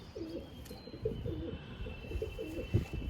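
A male pigeon coos in low, throaty, repeated rolling phrases, close and steady, over a faint background hum.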